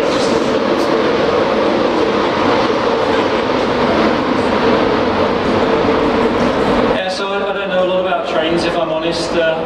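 Loud, steady roar of a class 66 locomotive running close by at York, rumbling and rattling throughout, with squeals and a shift in tone near the end.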